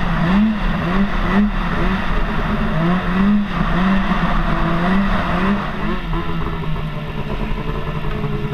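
A snowmobile engine revs loudly close by, rising and falling in pitch through several throttle bursts over a steady rumbling drone.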